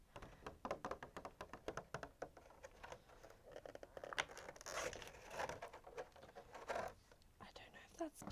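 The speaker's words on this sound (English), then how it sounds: "It's just the plastic scraping along my leg." Plastic scrapes and rubs against a leg in close, soft rustling strokes, with brief crinkly bursts and whispered talk running over much of it.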